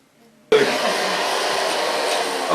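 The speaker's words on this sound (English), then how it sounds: "starting blow drying" Hair dryer switching on abruptly and then blowing steadily while ultra-short hair is blow-dried in a salon, a loud close continuous whoosh with a constant motor whine.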